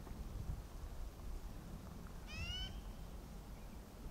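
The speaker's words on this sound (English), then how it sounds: "There goes a" Magpie at a riverside campground at Martin Landing near Parma, Idaho, gives a single short, faint call against steady wind and low background rumble.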